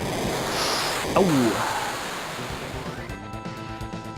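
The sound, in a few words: big wave attack in video game Final Fantasy VII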